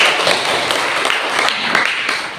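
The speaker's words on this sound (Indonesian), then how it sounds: "tepuk tangan dulu" Classroom applause from students during a teaching-practice lesson, a dense, steady patter of many hands clapping close by that fills the whole moment without letting up.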